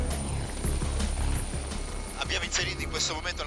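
AgustaWestland rescue helicopter flying on autopilot over a sea search zone, its steady low rotor and engine drone filling the cabin, with people talking over the noise.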